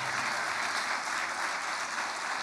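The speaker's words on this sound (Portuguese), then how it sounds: "Você pode aplaudir o Senhor por isso?" A church congregation applauds together in a steady, dense wash of clapping that fills the room without a break, no voices standing out.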